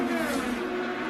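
An IndyCar race car at the 2013 Iowa Corn 250 peels off toward pit road, its engine a loud, steady high-pitched whine that shifts slightly in pitch as it passes.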